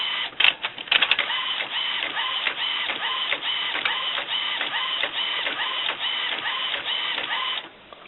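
An Epson XP inkjet printer with a continuous ink supply system lays down solid ink, giving a steady, close mechanical whir with rhythmic back-and-forth carriage passes that keep repeating and then stop abruptly near the end.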